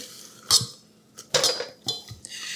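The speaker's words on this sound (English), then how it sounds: "we're going to beat it vigorously with the wire whip" Wire whisk beating roux and boiling milk vigorously in a metal pan, a few bursts of sharp metallic clinks and scraping, separated by brief pauses, close and fairly loud.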